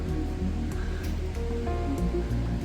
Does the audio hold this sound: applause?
no